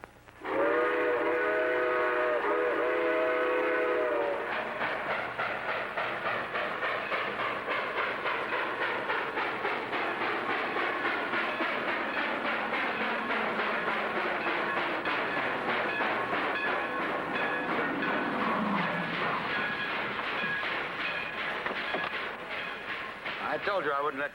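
A train rolls steadily past with a continuous rumble and rattle of cars, while a whistle sounds loudly near the start and rings out faintly later.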